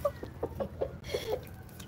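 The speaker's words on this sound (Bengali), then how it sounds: "মুরগিগুলো ভাবতেছে ওর মাছ দিব, এই জন্য ওরা আনন্দ পাচ্ছে" Farmyard chickens waiting to be fed fish give soft, scattered clucks at an irregular pace, fairly faint and moderately close, with no one speaking.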